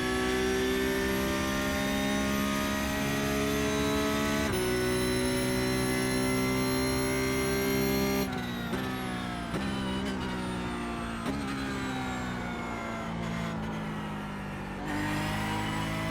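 Porsche Cup race car engine droning steadily at high revs at Suzuka, with throttle blips and shifting engine pitch partway through, loud and continuous.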